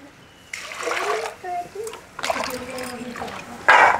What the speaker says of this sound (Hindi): इसको धो लेते हैं साफ पानी से।